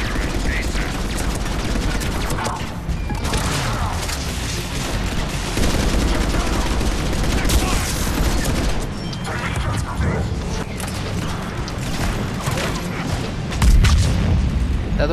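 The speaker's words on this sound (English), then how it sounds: "I went to machine gun." Dense, continuous gunfire and booming explosions in the video game Mass Effect 3 multiplayer, a loud, busy battle texture throughout, with voices from players mixed in.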